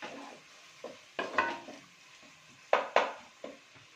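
Fried fish cooks in oil for a Telugu fish curry, with soft sizzling broken by several sharp stirring scrapes and pan clatters, mostly quiet between bursts.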